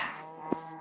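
A cow in the Minecraft video game gives a single short moo in the middle of a steady background of game music.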